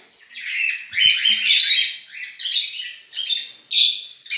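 Pet birds, a grey harlequin and an albino female, chirp and tweet in a close, lively run of bright calls, with short bursts repeating every half second or so.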